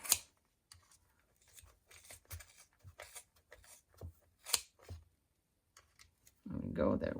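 Scissors snipping through thick yarn to trim a pom pom, a run of short, sharp cuts and rustles close by with pauses between them, ending in a louder rustling burst.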